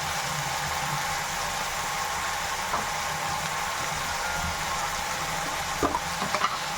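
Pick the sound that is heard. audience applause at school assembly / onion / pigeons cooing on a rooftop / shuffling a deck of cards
onion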